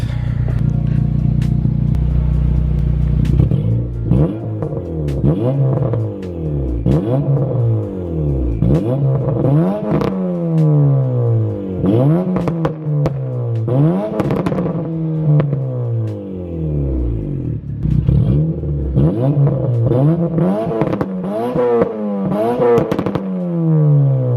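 Turbocharged 9th-generation Honda Civic pulling hard through repeated gear changes, engine note rising and falling in long sweeping revs with turbo whoosh and flutter, loud and continuous from inside the car with no talking.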